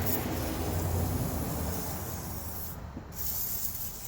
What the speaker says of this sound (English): I'm going to go ahead and spray it up a lot.